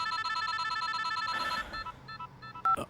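A mobile phone rings in a Hindi-dubbed Telugu action romance film, a repeating electronic ringtone of bright tonal beeps that stops partway and gives way to a few short tones and a click.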